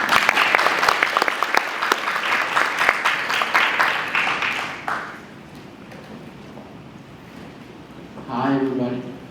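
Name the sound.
audience applause for a speaker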